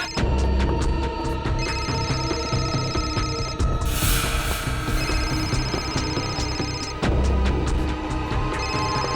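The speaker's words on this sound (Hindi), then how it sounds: "फोन ही आया" A mobile phone ringtone plays loudly with repeating electronic tones and a steady beat, ringing on without pause.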